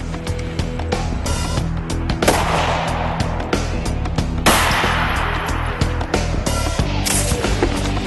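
An AK-47 fires heavy 7.62 mm rounds into a test block, with a series of loud, sharp reports and crackling impacts spread across several seconds amid ringing noise.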